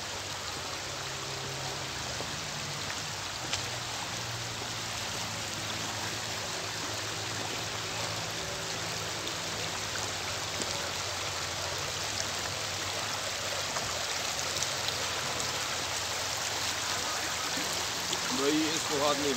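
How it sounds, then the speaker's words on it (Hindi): Cold snowmelt mountain stream rushing steadily nearby in a scenic spot in Khyber Pakhtunkhwa, a broad continuous roar of flowing water with no break. "भाई इसको हाथ नहीं लगा सकते, क्योंकि ये बर्फ़ का पानी है"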